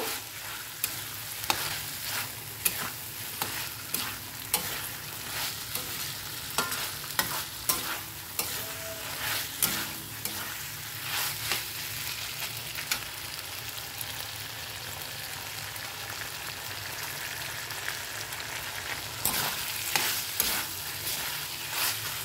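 Boiled chickpeas for chola bhuna being stir-fried with spices, a continuous close sizzle under repeated scraping stirs and sharp clicks of a spoon on the pan, steady throughout with no voices.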